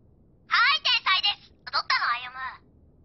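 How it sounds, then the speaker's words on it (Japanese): A telephone rings in an anime episode, an electronic warbling ring in several short bursts of about two seconds, fairly loud and close with no talk over it. "なんで春菜が電話に出るんだ"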